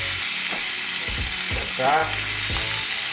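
Steak fries in butter in a hot pan, a loud, close, steady sizzle with crackling bursts and a few low clunks of handling, while a voice speaks briefly.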